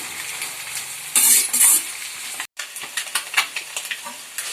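Vegetables sizzling and frying in a pan for noodles, a steady crackle with bursts of louder hissing and a brief dropout midway, stirring clatter toward the end.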